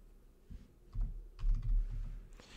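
Keys clatter in short bursts as a command is typed on a computer keyboard while setting up an encrypted Arch Linux install, quiet and close with brief pauses between runs of strokes.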